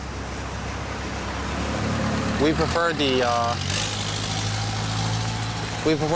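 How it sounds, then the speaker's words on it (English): A motorized speedboat engine drones steadily nearby at the Damnoen Saduak Floating Market in Thailand as someone speaks briefly over it, the low rumble holding throughout. "you can rent one that is like a speedboat, which is going by now, a motorized boat"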